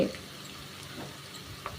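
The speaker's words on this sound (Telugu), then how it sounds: "కొంచెం వేపుకుందామండి." Ginger garlic paste fries in oil with a soft continuous sizzle and a couple of light stirring scrapes toward the end, close but fairly quiet.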